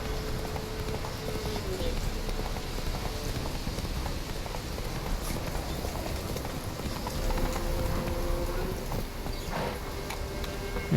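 Horse hooves clip-clop at a trot through rain in The Witcher 3 video game, a steady rhythmic patter of steps over a constant hiss of rainfall, with a voice speaking Spanish over it.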